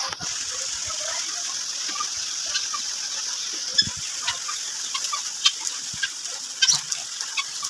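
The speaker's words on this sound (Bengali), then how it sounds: "এই যে দেখুন আমার মুরগিগুলা খাবার খাইতেছে" Chickens cluck intermittently while pecking at feed on a rainy day, short scattered calls and pecking taps over a steady background hiss of rain.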